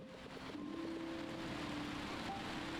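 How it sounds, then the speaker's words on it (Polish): Steady rain falls over a city in the game Until Then, a continuous hiss with a faint tonal hum running under it and no voices. "A deszcz w tym mieście nie jest aż tak dużo lepszy, wiesz?"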